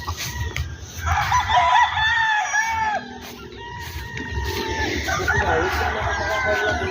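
Roosters and hens on a gamefowl farm in Bacolod crow and cluck close by in overlapping, repeated calls, with farm noise filling the background throughout.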